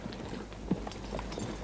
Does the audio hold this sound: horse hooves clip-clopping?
yes